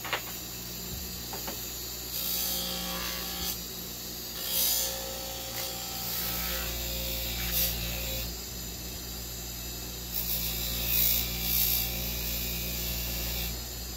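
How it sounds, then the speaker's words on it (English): An adjustable wrench pressed against a spinning fiber polishing wheel, giving a steady abrasive whir with brighter rubbing bursts each time the metal is pushed in, heard alone with no talk. "So I'm going to throw it on the fiber wheel real quick."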